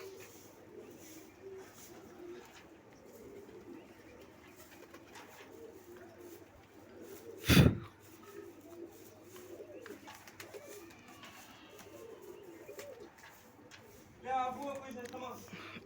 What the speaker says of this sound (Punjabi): ਵਧੀਆ ਉੱਡਣੇ ਕਬੂਤਰ